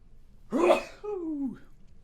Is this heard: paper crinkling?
no